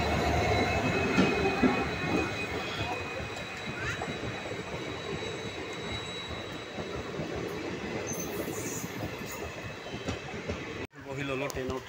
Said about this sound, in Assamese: ট্ৰেইন আহি পালেহি আমাৰ পেচেঞ্জাৰখন